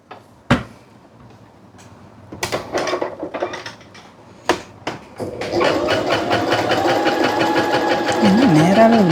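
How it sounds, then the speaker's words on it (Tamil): A Brother JA1400 sewing machine gives a few scattered clicks and knocks, then runs steadily. Its motor whirs close and loud while the needle stitches in a fast, even rhythm that lasts to the end. "இப்போ நம்ம ஸ்டிச் பண்ணி பார்ப்போம்."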